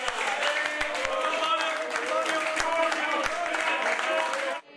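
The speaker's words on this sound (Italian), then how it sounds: "nella sede del Carroccio scatta l'applauso" Party members break into applause at the Lega headquarters after a mayoral election win, dense, continuous clapping with cheering voices mixed in, holding steady before cutting off abruptly at the end.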